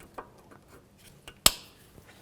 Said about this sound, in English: Use some side cutters. Just bend the tab over. You can cut off the excess.